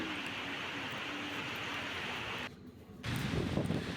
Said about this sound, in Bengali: এত প্রচণ্ড পরিমাণে হাওয়া চলছে